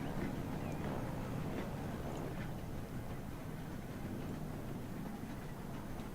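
A train in the video game Transport Fever rumbles past in a steady, continuous low roar with faint rattling, moderately quiet and unbroken, with no voices.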